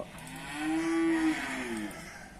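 A water buffalo at a livestock market gives a single drawn-out moo lasting over a second, fairly close and clear, with no talking over it.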